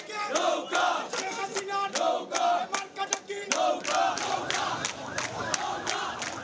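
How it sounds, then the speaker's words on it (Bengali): A crowd of supporters celebrates a Sylhet city election win with loud rhythmic chanting and wild cheering, many voices shouting together in repeated bursts, close and energetic. "বাঁধনহারা উল্লাসে মাতেন সমর্থকরা।"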